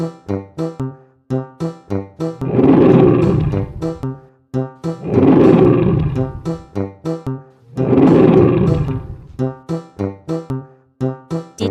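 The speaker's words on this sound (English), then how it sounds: "Yes! It's a lion! The lion roar!" A lion roars three times in slow succession, each long, loud, rough bellow separated by short grunting pulses.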